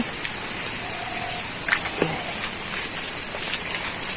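Steady, dense rain hiss fills the whole stretch, loud and even, with a few faint scattered knocks and no voices.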